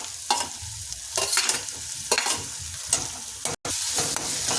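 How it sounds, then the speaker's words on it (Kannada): Chopped tomato sautéing on a hot tawa for a street-style paneer keema tawa pulao, with steady close sizzling broken by repeated scraping and stirring strokes of a spatula. "ಈ ಟೊಮೊಟೊ ಬೆಂದು ಮೆತ್ತಗಾಗಿ ಮ್ಯಾಶ್ ಆಗೋ ತನಕ ನಾವು ಬಾಡಿಸ್ಕೊಳ್ತಾ ಇರಬೇಕಾಗತ್ತೆ"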